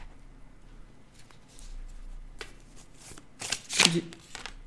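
Tarot cards are shuffled in a quiet room: soft handling rustles build to a short, loud riffling burst near the end, with speech picked up around it.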